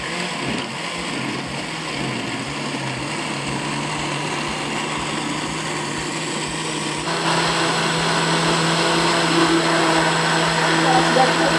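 Blender grinding ingredients into a smooth plant-based pesticide mixture: a continuous loud motor whir with a steady pitch that steps up slightly partway through, close and unbroken.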